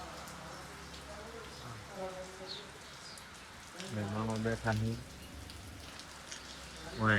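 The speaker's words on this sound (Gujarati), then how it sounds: "વરસાદ આવે છે." Steady rain patters in the background throughout while people talk over it, the voices growing louder near the middle and end.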